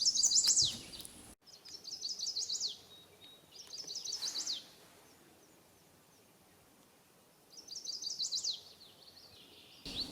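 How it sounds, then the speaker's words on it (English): A chestnut-sided warbler sings on a boardwalk beside a pond, its bright, high phrases repeating in three or four bursts separated by quiet gaps, close and clear over faint background hiss. "This chestnut-sided warbler is just fearless, singing his heart out right at the beginning of the boardwalk."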